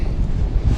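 Strong wind on a fall fishing outing rumbles and buffets the microphone in a steady, loud low roar with no other sounds.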